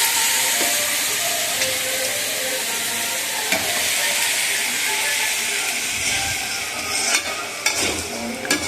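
Chopped vegetables frying and being stirred in a pan for a Chhattisgarhi tiwra batkar dish, a steady loud sizzle with scraping stirs, close and continuous.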